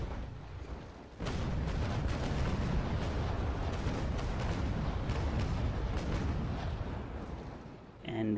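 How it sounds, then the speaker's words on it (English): A sailing warship lets loose a full cannon broadside in a naval battle game featuring the Trincomalee and the Constitution: a loud, sustained roar of overlapping booms that rolls on for several seconds before easing off. "Yep, he's going to have a full broadside."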